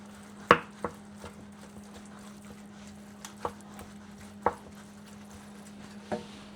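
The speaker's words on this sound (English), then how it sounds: "you have to be really careful when you're chopping this, because you have to chop it in two small bits" A knife chops through food on a board at a street snack stand making samosas, with a handful of sharp, irregular knocks over a steady low hum.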